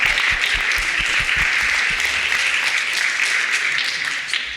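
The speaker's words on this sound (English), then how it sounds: "so give yourselves a round of applause." Audience applause at a community forum on climate change across generations, steady sustained clapping from a crowd in a hall, fairly loud and even throughout.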